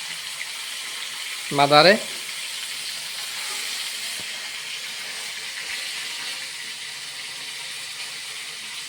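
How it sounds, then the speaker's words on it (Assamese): Fish frying in a pan gives a continuous, even sizzling hiss throughout, with a voice speaking briefly over it near the start. "এয়া মাছ ভাজি আছে"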